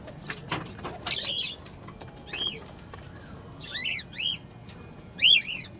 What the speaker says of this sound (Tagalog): Ganyan talaga yung mga ibon natin, mga kalapate.